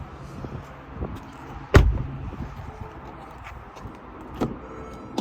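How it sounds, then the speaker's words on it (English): A single sharp thunk of a 2013 Mercedes-Benz ML350 car door opening, followed by soft clicks and handling noises in a quiet interior. "The door makes kind of a weird noise when you open it."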